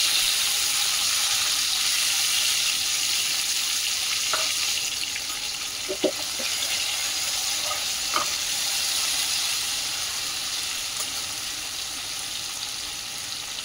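Chopped tomato fries with asafoetida in a hot pan, giving a steady loud hiss and sizzle throughout, with a few brief clinks and stirring scrapes in the middle.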